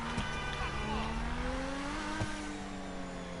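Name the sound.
car engine roaring like a fighter jet, GTA Online video game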